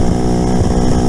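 A loud, steady enduro motorcycle engine drones throughout while riding, close and continuous, with a rough buzzing tone and no pauses.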